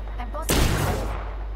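A single sharp, loud shotgun blast in Apex Legends cuts in abruptly and rings out with a decaying tail, after some faint voice-like sounds.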